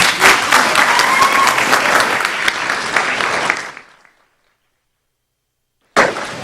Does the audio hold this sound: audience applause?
yes